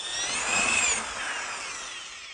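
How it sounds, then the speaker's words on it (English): A power drill whines as a 1-inch auger bit bores through a wooden support member, a high, steady grinding tone that peaks early then eases off. No voices. "This 1-inch hole made with an auger bit is fine"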